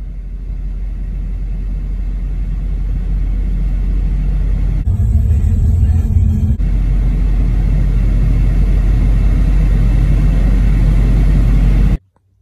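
A Jeep Cherokee engine runs while the vehicle is driven, a loud, steady low rumble from inside the cab that holds on without pause before cutting off abruptly at the end.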